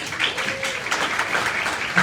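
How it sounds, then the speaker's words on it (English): A round of applause breaks out at a community membership event, a short burst of dense clapping with a voice faintly audible beneath it. "give everyone a round of applause"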